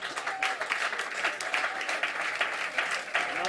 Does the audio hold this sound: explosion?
no